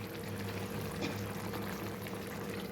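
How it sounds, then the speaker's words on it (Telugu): Water boils steadily in a pot on a stove while cooking a pachi bataani, potato and tomato curry, giving an even, continuous bubbling hiss at moderate volume with no voices. "మనం వేసిన వాటరు చక్కగా వేడెక్కింది కదండి."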